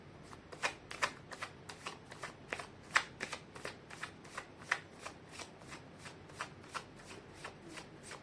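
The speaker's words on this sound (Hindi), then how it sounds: "मैं कर लेती हूँ कार्ड की शफलिंग।" Tarot cards being shuffled by hand: a steady run of quick, papery riffling rustles, about two per second, fairly close but soft, with no voices.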